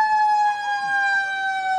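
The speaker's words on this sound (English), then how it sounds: "Claro, con las sirenas de la policía" An old police car at a street parade sounds its siren, a steady loud electronic wail with rising and falling pitch, continuous and near, with faint background noise.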